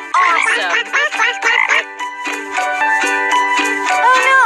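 Cartoon frogs croak in a kids' math puzzle game, a dense, loud chorus of bubbly, warbling calls overlapping with bright musical game tones, close and continuous.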